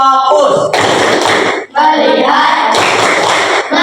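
A classroom of students claps in rhythm through a focus clap chant, their voices chanting in unison over quick, fairly close hand claps.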